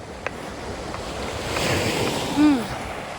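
Surf washes and rolls on the shore at Ha Pak Nai Beach, Yuen Long, with a steady roar and gusty wind noise, plus a brief faint voice near the end.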